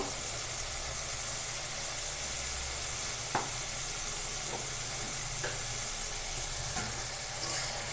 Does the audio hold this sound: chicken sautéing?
yes